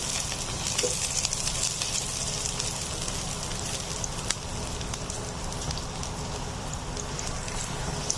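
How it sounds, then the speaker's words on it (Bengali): Garlic frying in oil before water spinach goes in gives a dense, even crackling sizzle close by, steady and rain-like for the whole stretch, with scattered small pops and no talk. "আমার রসুন ভাজাটা হয়ে গেছে"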